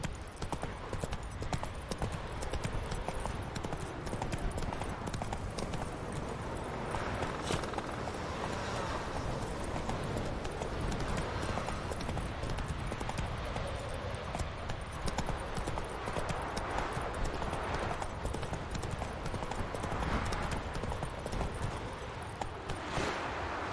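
Roach, the horse in The Witcher 3, clip-clops along at a steady walking rhythm, hooves sounding continuously and moderately loud, with faint ambient game noise behind.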